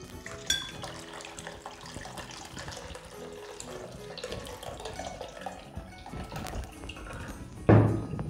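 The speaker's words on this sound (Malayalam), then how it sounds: "ഇതിലേക്ക് കുറച്ച് പച്ചവെള്ളം ഒഴിച്ച് കഴുകിയെടുക്കാം." Tap water runs and splashes steadily while falooda ingredients are rinsed in a bowl, with clinks and handling noises and a loud burst of pouring near the end.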